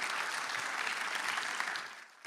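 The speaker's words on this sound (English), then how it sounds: "A round of applause for the ladies." Steady audience applause at a corporate business event in Malaysia, a dense, even patter of many hands clapping for about two seconds before fading out, with a brief burst at the very end.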